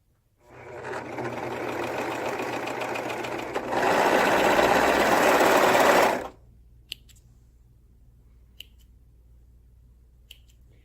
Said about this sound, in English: So I'm just going to sew the shoulder seams